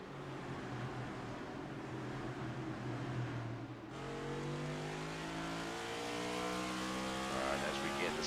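NASCAR Cup Series race cars roar around Talladega Super Speedway in a racing video game. A steady engine drone builds into rising revs as cars pass, with a commentator talking over it.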